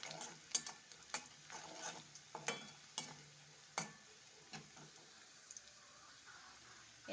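Half a teaspoon of salt is stirred into a cooking pan with a utensil, making faint, scattered scraping strokes at an uneven pace and a soft sizzle in the background.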